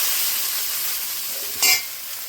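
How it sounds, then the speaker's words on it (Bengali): Sago pearls (sabudana) frying in a pan for payesh give a steady broadband sizzle, with a brief louder burst of crackle near the end as the pearls are stirred. "দেখুন বন্ধুরা, সাবুটা ভেজে নিয়েছি"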